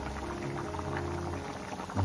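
Prawn curry, kolambi rassa, bubbles at a steady rolling boil in a pot, a continuous dense simmering hiss and burble filling the clip without any voices.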